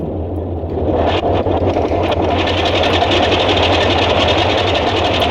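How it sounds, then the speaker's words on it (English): Boeing 247 radial engine in Microsoft Flight Simulator 2020, idling steadily just after start with a loud, continuous rough throb and knocking rumble that holds even throughout. "All right, we have one engine started."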